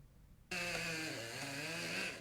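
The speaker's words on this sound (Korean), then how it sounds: "작업자들이 전기톱으로 큰 나무를 잘라냅니다" A chainsaw starts abruptly and runs steadily as workers cut down large old plane trees at a university entrance early in the morning, a loud continuous engine drone.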